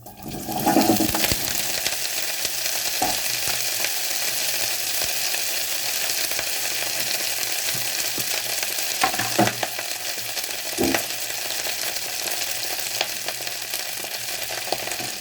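Cauliflower hits very hot mustard oil with mustard seeds and fries over a low gas flame, giving a loud, steady sizzle with a few stirring clatters and no talking.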